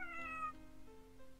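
A cat meows once in a blacksmith video game, a short clear tonal call at moderate volume, trailing off into soft background game sound.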